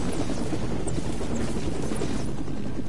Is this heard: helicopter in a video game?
yes